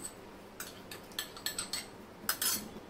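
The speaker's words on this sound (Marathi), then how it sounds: "हे छान ढवळत राहायचे जोपर्यंत हे थोडं दाटसर होत नाही तोपर्यंत" A spoon scrapes and clinks against a pot while cornflour custard mixture is stirred, light irregular taps and scrapes close by, fairly quiet, with no voices.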